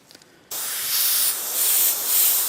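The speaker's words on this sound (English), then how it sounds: "We should find there's no painty residue or anything like that coming through the nozzle when we spray." Airbrush spraying to clear its nozzle of paint between colours while painting a 1/72 scale Bandai Y-Wing model, a sudden steady close hiss that starts after a short quiet moment and keeps going with slight surges.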